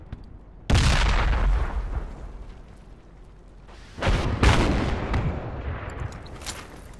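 Two heavy, booming frag grenade explosions in the Project Reality military shooter, each one sudden and close with a long rumbling tail, set apart by a quieter stretch.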